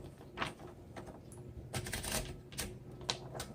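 Keys strike in an uneven run on a 1949 Smith Corona Sterling manual typewriter, each press giving a sharp mechanical clack, loud and close with no talking over it.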